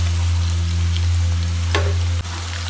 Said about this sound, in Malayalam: ഇനി നമുക്ക് ക്യാപ്സിക്കം സബോള ഇട്ട് കൊടുക്കാം കേട്ടോ